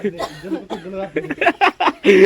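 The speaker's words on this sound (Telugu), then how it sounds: "ఇక్కడ దగ్గులు వచ్చినాయి" Several short coughs come in quick succession, close up, mixed with a few chuckling voice sounds.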